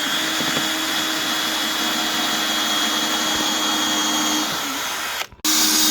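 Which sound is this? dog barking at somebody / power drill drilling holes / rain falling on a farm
power drill drilling holes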